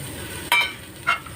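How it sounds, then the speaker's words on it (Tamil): Vegetables with carrots, beans and cooked peas are stirred in a pan for vegetable biryani, with a soft sizzle and two brief scraping clinks of a spoon against the pan. "நல்லா கிளறி விட்டுருங்க."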